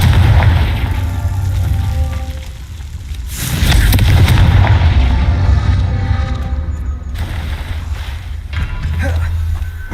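Confringo blasting curses detonate in Hogwarts Legacy as loud, deep booms and crackling blasts, one swelling around the middle and another sharp hit later, over a rumbling game soundscape.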